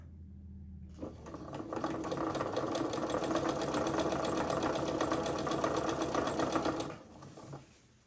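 A sewing machine starts up and stitches at a fast, steady whir for several seconds, close and alone, then stops.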